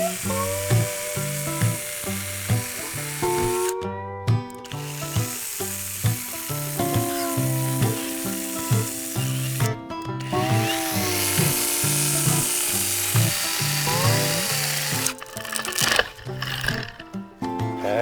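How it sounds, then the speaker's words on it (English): A plastic toy chainsaw cutting trees whirs and buzzes steadily, its electronic motor tone sliding up and down in pitch with gritty rasping bursts throughout. "I was actually enjoying cutting down the trees, even with my plastic chainsaw."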